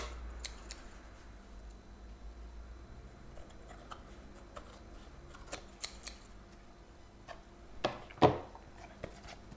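Scissors trimming excess paper from the edges of a handmade game player board, giving a series of faint, intermittent snips and crisp cuts over a quiet background, with a louder cluster of cuts near the end.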